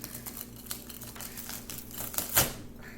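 A butter knife saws through breakfast food, giving faint, rapid scraping and crackling strokes close by, ending in a louder crunchy scrape.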